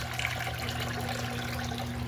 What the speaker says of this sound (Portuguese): tá escoando a água aqui